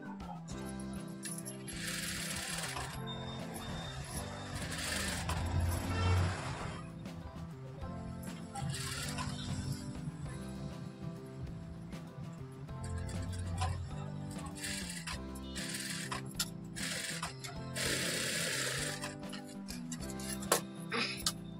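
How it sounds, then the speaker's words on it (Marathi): Sewing machine stitching the neckline of a blouse, a faint, fast mechanical whirring and ticking that runs in several bursts with short pauses. "गळ्याला एक पाव इंचाचं मार्जिन ठेवून टिप मारून घ्यायचे"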